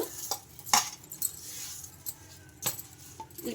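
A spoon stirs leftover rice paste with sesame seeds, chili powder, salt and turmeric in a bowl, giving faint, close scrapes and a few light clinks against the bowl.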